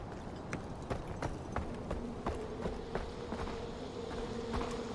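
Bees buzz steadily in the Far Cry 4 video game, a continuous drone close by with regular sharp clicks, like footsteps, ticking through it.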